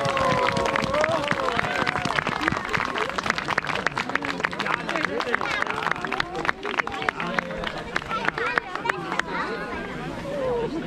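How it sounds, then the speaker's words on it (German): Audience applause at an award ceremony: a continuous patter of many hands clapping mixed with crowd chatter, steady and fairly loud throughout. "Und bitte auch für die Gruppe von der Charelle gibt es einen netten Applaus"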